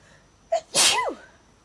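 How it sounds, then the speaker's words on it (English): A single close, loud human sneeze, a short sharp intake followed by an explosive burst that trails off, in a quiet room. "I'm gonna sneeze, hold on."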